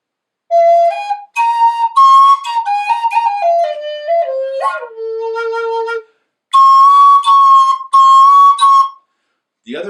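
A mid Bb Native American style flute plays a slow melody of breathy, sliding notes, with a sustained low tone, a pause, then a few higher held notes, close and clear with no talking.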